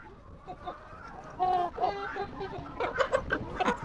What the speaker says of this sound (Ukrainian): Курочки і півники.